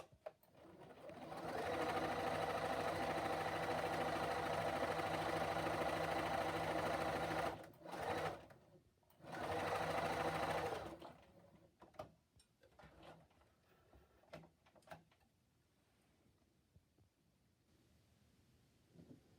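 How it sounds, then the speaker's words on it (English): A sewing machine stitches across the top of a fabric face mask in a long loud steady run, pauses briefly, runs again in a short burst, then gives way to quiet handling clicks and fabric rustles. "the first thing we'll do is to sew right across the top"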